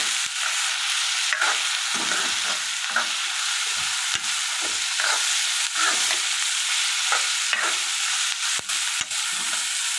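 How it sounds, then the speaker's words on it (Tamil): Onions fry in oil with mustard seeds and fennel for an egg curry, making a loud, bright sizzle close by that never lets up, punctuated by frequent sharp stirring scrapes and clacks. "வெங்காயம் வந்து நல்லா ப்ரௌனாக நமக்கு வதங்கி வரணும். வேகட்டும்."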